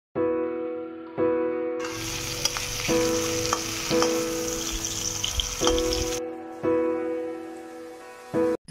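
Vegetable fritters of pumpkin, pointed gourd and eggplant frying in oil, with loud bursts of crackling sizzle between steadier stretches and a low background hum, no talking.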